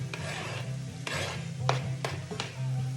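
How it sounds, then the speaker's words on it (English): Onion, celery and fresh rosemary being stirred into a keto cornbread stuffing mixture in a pot, giving soft repeated scraping and stirring strokes with a faint sizzle, close and steady with no talking. "we're gonna add the onion and the celery and the rosemary."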